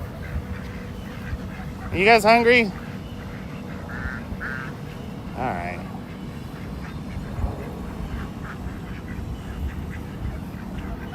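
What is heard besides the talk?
ducks quacking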